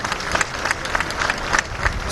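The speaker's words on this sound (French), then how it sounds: "Sous les applaudissements" Dense applause for departing President Michel Sleiman fills the courtyard of the presidential palace at Baabda, with individual claps standing out in a brief, continuous burst.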